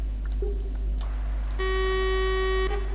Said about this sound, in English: Are you seriously honking at me, boy?